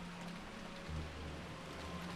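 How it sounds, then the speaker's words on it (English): Steady rain from a visual novel game scene, a soft continuous patter with a low hum underneath, no voices. "there would be nothing for us to do but pass the time listening to the sound of the rain"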